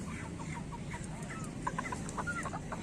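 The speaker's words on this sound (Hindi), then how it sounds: "ये मुर्गा देखें, ये भी ब्रीडर में 1 नंबर मुर्गा है।" Desi chickens and roosters at a poultry market cluck and squawk in short scattered bursts, faint to moderate over a steady background murmur.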